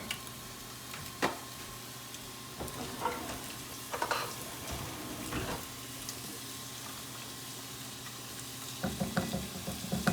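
A box of penne pasta boils in a pot of water on the stove, giving a steady bubbling hiss with a few soft clinks and stirring knocks. No voices.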